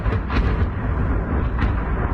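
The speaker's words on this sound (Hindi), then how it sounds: "सुनिए जरा, एम्बियंस के साथ सुनाइए धमाकों की आवाज" Deep, rumbling booms roll in a continuous low roar, with a few sharper bursts standing out, like distant shelling heard through heavy ambience.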